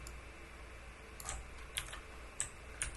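A few faint computer keyboard key presses, the Ctrl and slash shortcut, click sparsely in a quiet room.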